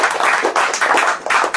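A church congregation claps in quick, rhythmic bursts, loud and close, for a brief moment, with no voices over it.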